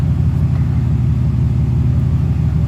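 Mercedes SL600 engine idling steadily with a newly installed transmission engaged in reverse, a loud, close, continuous low rumble with no talking.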